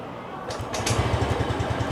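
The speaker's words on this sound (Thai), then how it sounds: "อันนี้คือเครื่องยนต์ติดเรียบร้อยแล้วนะครับผม" A 2021 Grand Filano Hybrid scooter engine catches and settles into a steady, rapid putter at close range, with a few clattery bursts just as it starts.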